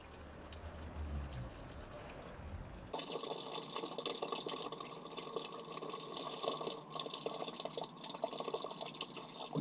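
Coolant trickles slowly out of a Peugeot 208 radiator into a container, a quiet, steady liquid flow with faint patters and drips that continues throughout.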